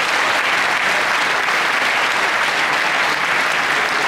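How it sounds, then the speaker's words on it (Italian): An audience applauds after a skit by the Bersaglieri brass band Fanfara "Pietro Triboldi" of Cremona, a steady, loud wash of clapping from a crowd that fills the whole moment without a break. "giudicare dai vostri applausi, che il nostro siparietto ha funzionato"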